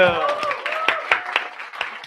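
An audience at a real estate gathering gives a short round of applause for the AV technician. The scattered claps are moderately loud and run under a voice speaking over them.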